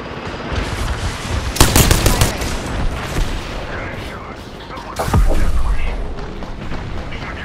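Apex Legends gameplay with loud bursts of automatic gunfire and booming impacts, a rapid volley near the start and a heavy blast later. Voice lines and talk sit underneath.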